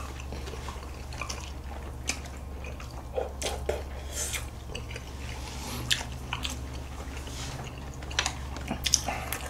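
Close, wet chewing and biting of skin and leg meat, irregular soft squishy bites over a steady low hum, with no talking.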